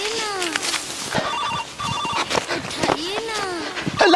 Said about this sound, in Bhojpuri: उठाइए ना सरदार केले बानी विधायक जी का फोन आइल बा